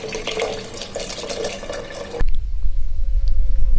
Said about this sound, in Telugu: చింతపండు రసం అయితే మంచిగా కలిపేసి పెట్టుకొని వాటర్ అయితే పోసేసుకోవాలి